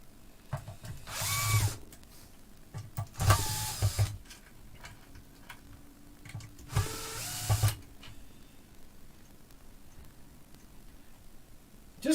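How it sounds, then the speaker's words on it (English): Power screwdriver undoing screws on an amplifier during repair, three separate whirring bursts of a second or less each, close and fairly loud, with quiet workshop room tone between them. "lots of screws to undo on these"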